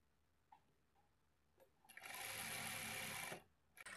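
Sewing machine stitching the side seams of a lining blouse, a single burst of fast, steady whirring of about a second and a half, preceded by a few faint taps and handling sounds.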